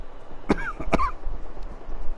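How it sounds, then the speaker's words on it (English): Two sharp coughs in quick succession from a person with allergies and an irritated throat during a Fortnite gaming session, close and fairly loud, followed by a quieter throat-clearing rasp. "sorry about the coughing again"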